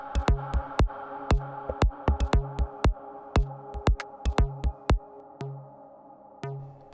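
A punchy tom and snare drum loop with clipping plays alone, sharp transient hits in a syncopated rhythm, some with pitched tom tails, loud and dry before thinning out toward the end.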